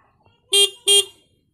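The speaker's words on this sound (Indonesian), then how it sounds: "klakson nyala" Two short, loud honks of a motorcycle horn in quick succession, close by, with near silence around them.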